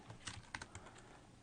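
Quiet clicking of keys on a computer keyboard as numbers are typed into a Sudoku puzzle, several soft taps in an uneven run, faint and alone.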